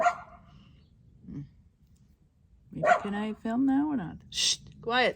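A dog barks and yips a few times in short bursts, close by in Portugal, while a person talks and hushes it.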